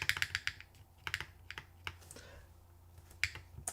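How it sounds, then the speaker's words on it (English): Light, sharp clicks with a faint rattle come from the space bar of a mechanical keyboard being assembled, tapped in quick irregular clusters with short pauses, quiet and close. "There's like a little sound coming from the space bar."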